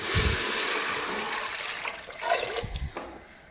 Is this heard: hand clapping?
no